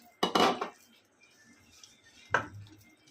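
Batter for mango gulgula is mixed with water in a bowl, giving two sharp knocking scrapes against the bowl separated by a quiet pause.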